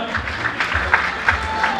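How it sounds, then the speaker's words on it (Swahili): A crowd at a secondary school graduation ceremony claps steadily for a couple of seconds, a dense patter of applause at moderate volume. "huyu anaitwa Emmanuel Joseph Chacha, tutambue kwa makofi tafadhali."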